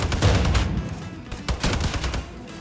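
Heavy weapon gunfire from Wolfenstein II: The New Colossus, loud close rapid bursts of automatic shots in uneven clusters, punchy and booming, with no speech over it.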